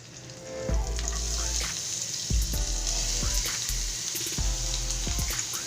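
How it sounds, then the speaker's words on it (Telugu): Finely chopped green chillies and ginger fry in a pan of oil while a radish paratha is being made, giving a steady close sizzle broken by a few heavy stirring knocks. "కొంచెం లైట్గా ఫ్రై అవ్వాలండి."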